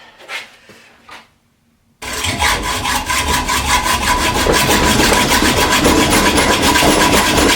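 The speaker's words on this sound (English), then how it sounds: "Make the saw run a little smoother." Steady back-and-forth sawing on a bicycle part during a Yeti SB160 mountain bike build, starting abruptly after a couple of faint taps and continuing loud and rhythmic, close by, with no talking.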